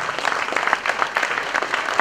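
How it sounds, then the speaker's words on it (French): An audience gives a brief, dense round of applause for a colleague at a company report event, steady clapping that fills the space without pause. "On peut l'applaudir les gars"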